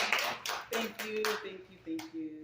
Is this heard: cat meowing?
no